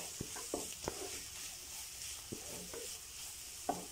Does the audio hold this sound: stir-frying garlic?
yes